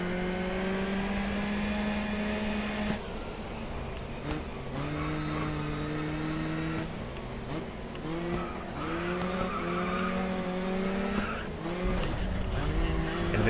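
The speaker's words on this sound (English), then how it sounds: "It's touring cars, it's a full contact sport." Touring cars in a full-contact race in the Grid Autosport video game, engines droning and shifting pitch through gear changes, with sustained tire squeals and skids, loud and continuous.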